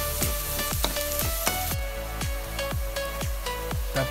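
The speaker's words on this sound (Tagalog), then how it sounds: "And then halo-haloin natin yung sibuyas bawang." Pork sizzling in a hot pan with onion and garlic, stirred so a spatula scrapes and clacks rhythmically, roughly twice a second, over a steady close frying hiss.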